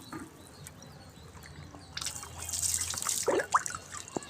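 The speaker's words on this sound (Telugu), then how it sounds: "ఇందులోకి నేను ఈ వాటర్ని అనేది యాడ్ చేసేస్తున్నాను ఇంకొంచెం డైల్యూట్ అవుతుంది" Water poured into a homemade plant fertilizer mixture to dilute it, with faint trickling and dripping that grows a little busier partway through. The sound is quiet and close, and no one speaks.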